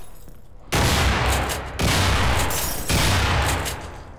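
A shotgun in the video game Underhell fires three loud, booming blasts about a second apart, each with a long roaring decay, close and with no talk.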